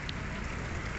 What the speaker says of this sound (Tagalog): Ambon na naman.